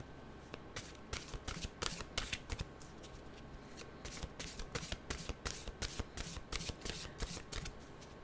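Oracle cards from the Mystical Wisdom deck being shuffled by hand, with a quiet, rapid run of riffling and flicking bursts repeating steadily, close and alone.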